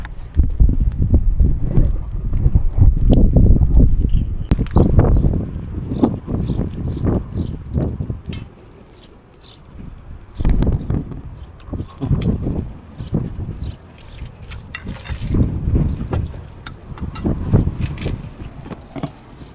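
Wind gusts hit the microphone in heavy, irregular low-frequency bursts that surge and ease, loud and close, with no speech.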